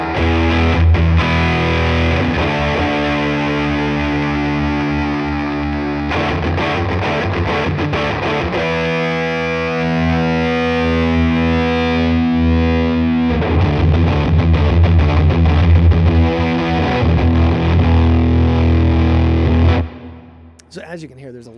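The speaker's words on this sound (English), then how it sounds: "It is a little noisy, but it's a fuzz pedal." A heavily distorted guitar through a Mythos Pedals Positron Fuzz pedal plays sustained, buzzing chords loudly and continuously, with a noisy, saturated edge, then cuts off abruptly near the end.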